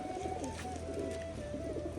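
Pigeons cooing steadily at a home loft during a courtship display, a low continuous purring coo with faint background sounds and no talk.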